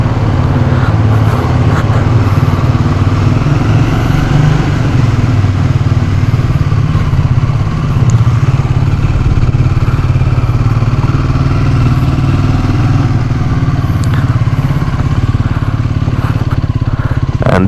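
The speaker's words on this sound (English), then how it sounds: "when we crank up our motorcycle on a weekend or on any day" A motorcycle engine runs steadily and loudly up close, a continuous low rumble with slight clatter throughout.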